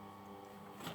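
A domestic sewing machine fitted with a size 12 needle, stitching slowly through several layers of hoodie fabric: a close, steady mechanical whir with a rising hum at the end of a one-second burst.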